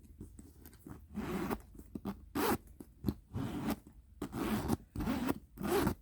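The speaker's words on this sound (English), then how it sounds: "let me check the zipper on the back." A zipper on the back of a Coach Rowan leather handbag is pulled open and closed repeatedly in quick, close-up rasping strokes separated by brief pauses, with no talking.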